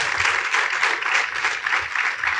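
An audience at a design talk event claps in steady, sustained applause, a dense rustling patter of many hands that keeps going evenly without a break.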